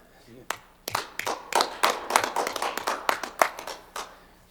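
A small group claps steadily for a few seconds, a modest round of applause in a quiet room at a county commission meeting.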